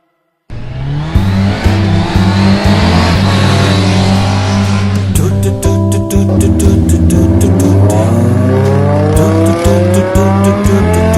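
A car revs hard and speeds away with squealing tyres, its engine roaring loud and close for about eleven seconds, with sharp clicks and knocks over the sustained drone and no talking.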